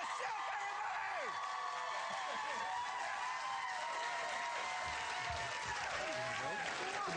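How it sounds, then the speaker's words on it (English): Studio audience at the Lost Girl Season 2 finale pre-show claps and cheers steadily throughout, a dense wash of applause with scattered whoops and shouts, loud and close. "Can't help but notice that your applause was bigger"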